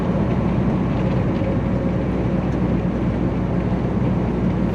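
A heavy train locomotive on a mountain grade with the throttle brought back, a steady low rumble and drone of engine and rolling wheels, close and continuous, with no speech.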